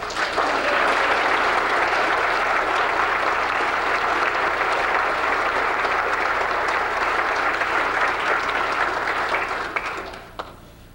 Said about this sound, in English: A round of applause for our string quartet.